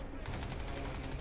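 Gunfire in the video game Crysis 3 crackles as a steady burst of rapid shots over dense in-game noise, loud and continuous for a brief moment.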